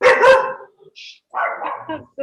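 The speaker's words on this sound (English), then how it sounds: "I'm sorry, that was my dog." A pet dog barks twice in quick succession close to the microphone, loud and sharp, followed by a brief yip and a short stretch of a person speaking during an online English conversation session.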